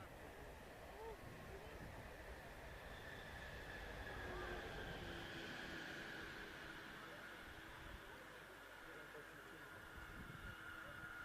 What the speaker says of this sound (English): I'm actually hearing a train